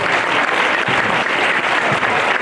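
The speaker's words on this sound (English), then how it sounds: "How about a round of applause for our scorekeepers?" An audience claps loudly and continuously for the scorekeepers at a girls and boys basketball tournament championship, a dense unbroken roar of applause.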